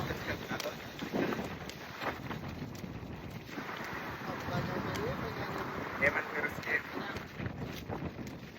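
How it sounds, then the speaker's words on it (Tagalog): Strong wind buffets the microphone outdoors near a holiday resort, a continuous gusty roar with brief surges, and a voice speaks over it at times. "Ayan, malakas ang hangin."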